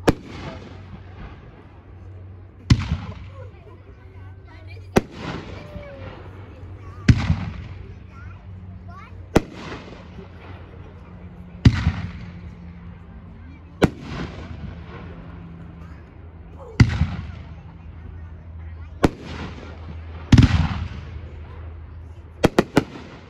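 An Uncle Sam consumer firework cake goes off at an outdoor fireworks demo. About ten loud, sharp booms come at roughly two-second intervals, each with a trailing rumble and crackle, and faint voices are heard between shots.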